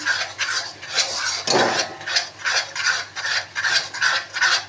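Semolina halwa roasting in ghee in a kadhai, stirred with a spoon in a close, steady rhythm of scraping and rubbing strokes, without talk.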